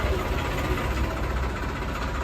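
A New Holland 3630 tractor, 2014 model, idles at a used tractor market, its engine running in a steady low rumble with a faint knocking vibration throughout, close and continuous, no talk over it.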